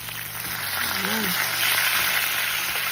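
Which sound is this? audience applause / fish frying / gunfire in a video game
fish frying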